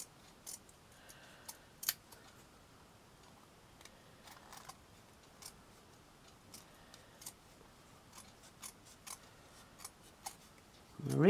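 Scissors snipping lace at a craft table for a handmade lace caddy, a series of sparse, crisp clicks spaced irregularly over quiet room tone, ending in a louder rustle.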